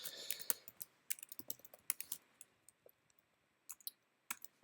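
Quick, light clicks from a computer keyboard as an HTML tag is typed. The keystrokes come in brisk bursts separated by short pauses, fairly close and quiet, with no talking.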